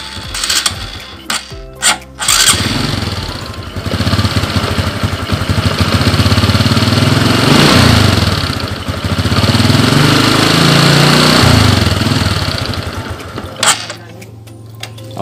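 Honda Supra X 125 motorcycle with a faulty fuel vacuum, its engine starting after a few short cranking bursts, then running at a steady, fairly loud idle close by before cutting off near the end.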